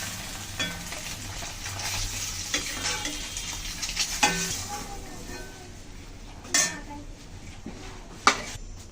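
Eggs lightly fried in oil and lifted out of the pan, with a soft sizzle under clinking and scraping of a utensil against the pan, plus a few sharp knocks and quiet speech.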